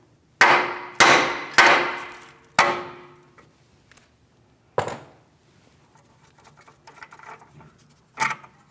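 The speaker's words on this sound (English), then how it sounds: "A couple light taps with a hammer here." A hammer strikes a tie rod end on a 2016-2025 Chevrolet Malibu with sharp metallic taps: four in quick succession, then a lone tap, and a final one after a pause, each ringing briefly before fading.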